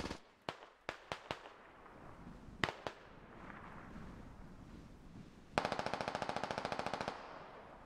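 Gunfire in the SquadOps video game: several sharp, separate shots ring out early, then a loud rapid burst of automatic fire rattles for about a second and a half before fading.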